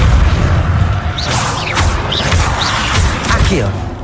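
Repeated Depulso force spell casts in Hogwarts Legacy on PS4 Pro, several sharp whooshing bursts with thuds across a busy game mix, a voice calling out spell names between them.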